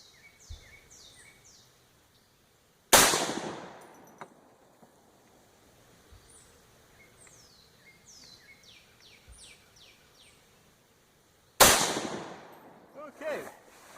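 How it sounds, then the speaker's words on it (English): Two sharp, loud shots from a match-conditioned M1 Garand rifle fired downrange, spaced several seconds apart, each with a ringing decay, while birds chirp softly in the background. "So I'm going to shoot 2 more in here so we have a 10-shot group to look at."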